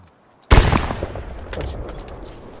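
One loud, abrupt gunshot from the video game First Class Trouble, with a booming tail that decays slowly for over two seconds in a reverberant space, no voices over it.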